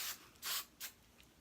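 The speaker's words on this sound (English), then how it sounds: "just put a little more spray just so you seal that shadow" Three short hissing bursts from a hairspray can, close and fairly soft, the middle one longest.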